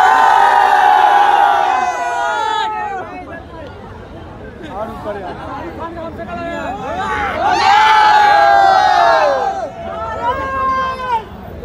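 Large crowd of fans at a Jawan film event in Bandra, Mumbai, roaring and cheering loudly in surging waves, with shouted voices and babble close around.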